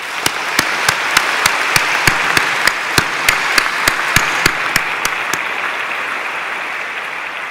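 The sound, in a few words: audience applause for volunteers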